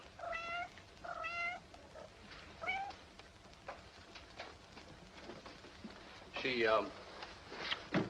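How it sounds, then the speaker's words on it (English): Cats meow several times, short rising and falling cries scattered over the stretch, with a longer wavering meow near the end amid soft background noise. "My poor kitties."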